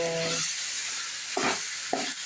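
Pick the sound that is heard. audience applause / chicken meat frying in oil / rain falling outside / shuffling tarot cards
chicken meat frying in oil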